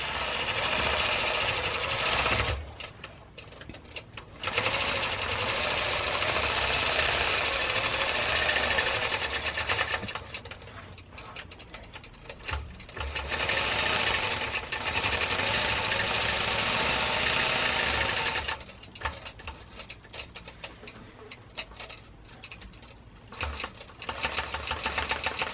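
A Butler Robotics quilting machine stitches around a block outline with a steady, rapid mechanical hum and needle chatter that pauses briefly a few times before resuming, with no talking.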